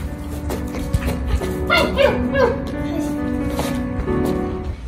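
A dog barks and yips a few times in a short Moroccan drama scene, with the sounds standing out over a busy background that carries speech-like voices.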